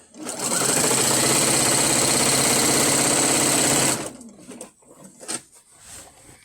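A sewing machine fitted with a walking foot stitches binding onto a quilt, running loud and steady with a fast even hum for about four seconds, then stopping and leaving faint handling noises.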